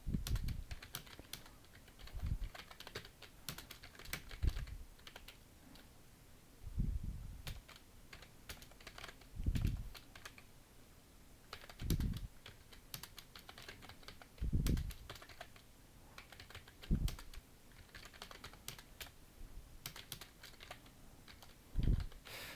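Keys clatter on a computer keyboard in steady bursts, with a louder thump roughly every two to three seconds as enter or shift is struck, close and clear with no voices.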